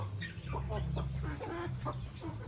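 Native chickens cluck close by in a short burst of overlapping, choppy calls against a faint low background hum.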